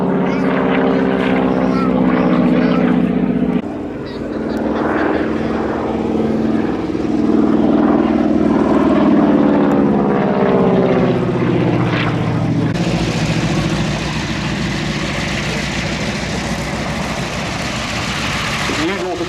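A North American Aviation Harvard propeller training aircraft drones loudly overhead at an airshow, its engine pitch rising and shifting as it passes, with a harsher whine near the end.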